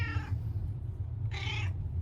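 Two distinct meows from a neighborhood stray cat, each about a third of a second long and roughly a second apart. They are loud and close over a constant low background hum.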